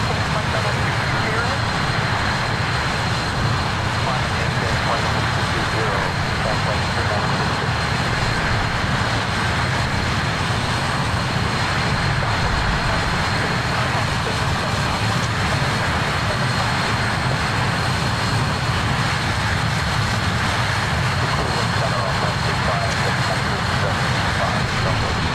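Avro RJ85 jet engines in a Northwest Airlink climb in Microsoft Flight Simulator 2020, a constant loud cockpit rumble with a thin steady whine layered over it throughout.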